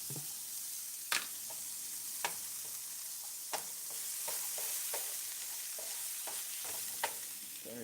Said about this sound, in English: Now I'm gonna go in with the tomatoes.